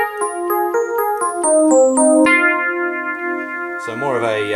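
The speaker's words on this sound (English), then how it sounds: "So more of a clavy style sound." Yamaha NP-30 electronic piano on a clavinet-style voice: a run of bright, plucky keyboard notes and held chords, close and fairly loud, ending in a rising, swelling flourish.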